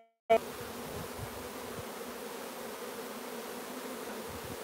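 Honeybees crawl over a hive frame heavy with nectar during cell building, making a continuous dense buzzing hum that starts abruptly and holds steady and close.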